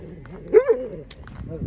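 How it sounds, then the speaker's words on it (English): A dog barks a couple of times on a rural trail, with short, fairly close woofs and yips among quieter background noise. "Another dog over there."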